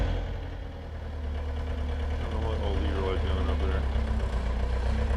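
A Takeuchi-style T300 excavator engine idles steadily while warming up, a low continuous diesel rumble at moderate distance, with a voice talking over it.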